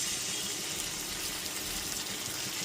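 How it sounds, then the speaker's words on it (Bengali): Water from rinsing a bowl poured into a cooking pot of boiled arhar dal, a steady continuous splashing pour heard up close throughout, with no talk. "বাটি ধোয়া একটুখানি জল দিয়ে দিলাম"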